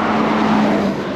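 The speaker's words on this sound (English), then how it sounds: "the noise of the cars that are driving by" Cars driving by on a road near the Malibu coast, a steady close engine and tire rumble with a low hum that dips slightly at the end, no talking.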